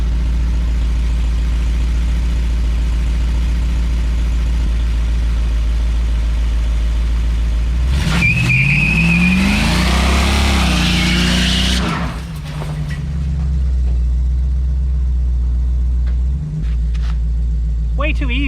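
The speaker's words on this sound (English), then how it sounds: "Let's see if she does a burnout." A 1965 Dodge Ram truck rated around 345 horsepower idles with a steady low rumble, then revs hard for about four seconds in a loud, roaring burnout before settling back to idle. The sound stays close.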